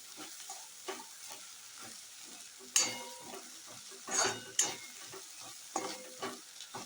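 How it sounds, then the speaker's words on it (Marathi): Okra stir-fry with a squeeze of lemon juice sizzles softly in a pan as a utensil stirs it, giving irregular scraping knocks and a few sharper metallic clinks up close, with no talking. "आता थोडासा किंचितचा लिंबू पिळायचा आहे आणि मिक्स करून घ्यायचं आहे"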